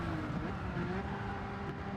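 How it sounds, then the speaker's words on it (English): A race car in a racing video game slides through a corner with a steady engine drone and faint tire squeal, running continuously at moderate volume. "Car's going to slide through the apex."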